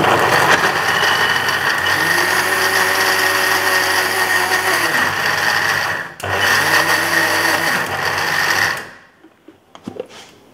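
Mixer grinder blending dates with pinni ingredients, a loud close whirring drone running for about nine seconds with a brief dip midway, then stopping to a few soft knocks.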